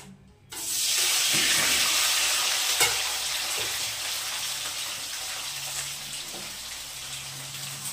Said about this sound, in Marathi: थोडस तेलात मीठ मिरची थोडस घालून ना फ्राय करते छानपैकी